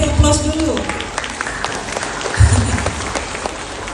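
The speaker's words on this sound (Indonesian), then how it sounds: "Kita beri aplaus dulu." A crowd of parents and teachers at a children's school arts show claps together in sustained, dense applause, with a voice talking over it.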